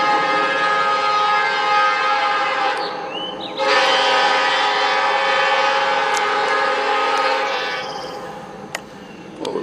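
Horns on a Norfolk Southern train near Bessemer, Alabama, sound as a loud, sustained chord blast lasting several seconds with a brief break, then fade toward the end amid rumbling rail noise.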